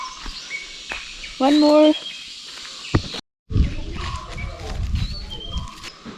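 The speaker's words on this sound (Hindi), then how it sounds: "देखो ये चिड़िया देखनी है जो आवाज कर रही है" A bird calls in a Coorg forest: one short, loud, tonal call rising over a dense background of insect and forest chatter, with people talking nearby before and after it.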